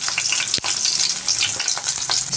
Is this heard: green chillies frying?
yes